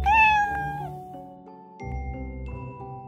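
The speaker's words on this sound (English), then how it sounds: "C is for cat." A cat meows loudly and clearly, one drawn-out meow followed by a second shorter call, alone without talk.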